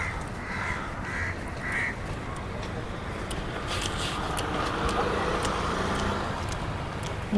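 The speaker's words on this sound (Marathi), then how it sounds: "खूप सारे पक्षी आहेत इथे" Several birds call in short bursts against a steady wash of outdoor background noise, with faint distant traffic underneath.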